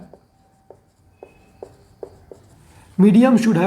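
Marker or chalk taps and scratches on a classroom board during a physics lesson in a series of short, evenly spaced strokes, followed by a teacher beginning to speak.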